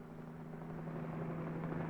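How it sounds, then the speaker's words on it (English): A low, steady engine drone with a rhythmic rotor throb, fairly distant and continuous, from a police helicopter passing overhead above a city, in a 1957 film. "Whirling over the city, a police helicopter reports traffic movement to the operations center."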